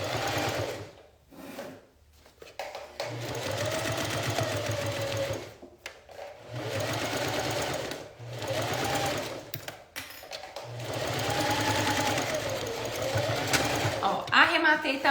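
A sewing machine stitches a fabric makeup bag (necessaire) in repeated bursts of steady whirring, close and fairly loud, with short pauses between runs.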